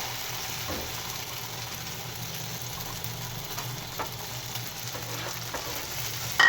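An egg fries in a hot greased pan with a steady, moderate sizzle, soft crackles scattered through it and a brief clatter at the very end.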